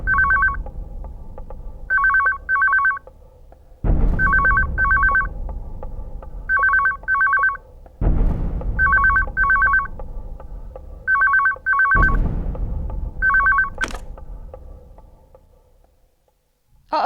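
A telephone rings in repeated double trills, loud and close, with each burst of rings followed by a deep resonant boom that fades away, several cycles in a row and no voices.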